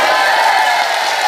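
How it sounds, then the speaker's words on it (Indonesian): A crowd of students at an Islamic boarding school in Setu, Bekasi, roars and shouts together in one dense, loud burst that fills the whole moment, with no individual voices standing out. "Tepuk satu sambil teriak hu"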